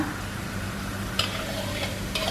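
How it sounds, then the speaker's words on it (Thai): Thick coconut milk simmers and is stirred in a pot while being reduced until its oil separates, making a steady bubbling sizzle with a few brief scraping stirs. There are no voices. "เคี่ยวกะทิให้แตกมัน เห็นนะคะ แตกมันเป็นยังไงดู"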